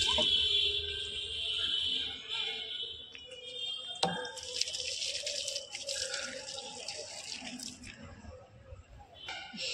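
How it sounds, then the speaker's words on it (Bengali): Water poured from a hose or tap onto garden plants in a home vegetable plot with pumpkin and gourd plants, a hissing splash that shifts and breaks off midway, then resumes with spattering, at moderate distance. "গাছের জলগুলো দিয়ে দিলাম"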